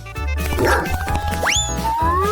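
A dog yips and barks in short, bright bursts amid a busy comedic scene, mixed with springy cartoon-style sound effects and rising whistle-like tones.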